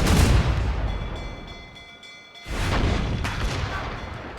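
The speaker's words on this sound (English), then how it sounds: "Cannon!" Cannon fire from a warship bombarding a fort in Assassin's Creed Rogue booms out loudly in two heavy bursts with rumbling tails and a short lull between them.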